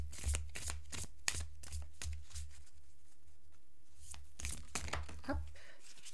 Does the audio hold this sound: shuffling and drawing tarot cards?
yes